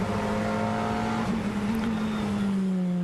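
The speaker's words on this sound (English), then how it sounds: "number 11 Audi R8 LMS, as we go on board with Sebastien Loeb" An Audi R8 LMS GT race car at speed during FIA GT qualifying in France, its engine holding a loud, steady high drone with a quick shift blip midway, constant and close throughout.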